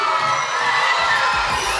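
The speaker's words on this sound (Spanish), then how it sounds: "A ver quién tiene la hinchada más fuerte." Schoolchildren at a primary school diploma ceremony cheer and shout together, a loud, dense crowd roar of high voices sustained throughout.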